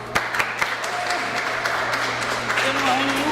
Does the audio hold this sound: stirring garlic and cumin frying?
no